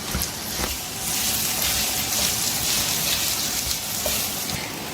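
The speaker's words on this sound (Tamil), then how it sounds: "இதையும் நல்லா வதக்கணும்." Bell pepper sautéing in hot oil for a Brussels sprout rice dish, giving a steady, close hiss of sizzling throughout with no talking.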